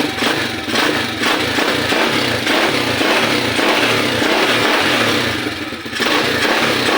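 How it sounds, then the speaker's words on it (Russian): A Kayo 120cc four-stroke pit bike engine, freshly serviced with valve clearances set, idles close by with a steady, throbbing low putter and a fast regular pulse, loud and continuous, with one brief dip near the end. "Работа двигателя."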